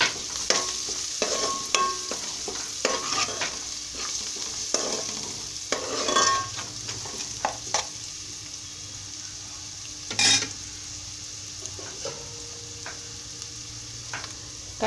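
Salt, chili powder and turmeric frying in a pan for a bottle gourd milk curry, a soft steady sizzle broken by repeated scraping stirs and occasional clinks of a spoon against metal, with no voices.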